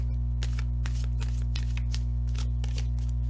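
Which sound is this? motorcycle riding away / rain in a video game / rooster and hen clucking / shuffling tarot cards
shuffling tarot cards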